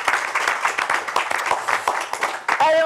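Audience applause for the five prize-winning teams and their teachers at a school word-contest final in France, dense steady clapping from a crowd with a brief voice near the end.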